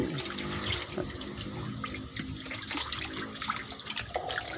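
Water changed in a frog pond, running steadily and fairly close like a tap or hose filling, with continuous splashing and bubbling throughout and no talk.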